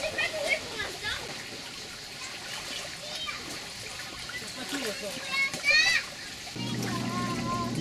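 Footsteps sloshing through shallow seawater along a rocky shore, intermittent close splashes among lapping water, with voices talking nearby.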